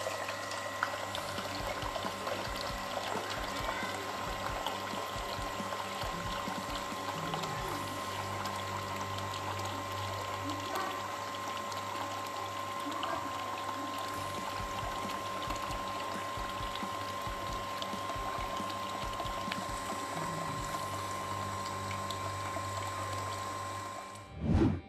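Municipal tap water in Sadr City, Baghdad, runs steadily and loudly from a tap for about twenty-five seconds, a continuous pouring rush with faint mechanical whine underneath and no talking.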